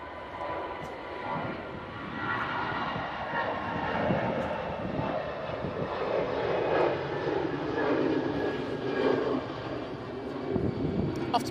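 A passenger airplane departing Manchester Airport for Paris Charles de Gaulle during a storm gives a steady, broad jet-engine roar that holds fairly loud and constant throughout, with wind noise mixed in.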